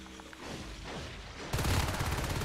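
Shotgun fire in a Natural Selection 2 match rattles off as a dense burst of overlapping shots, getting louder and busier in the second half over a noisy game mix.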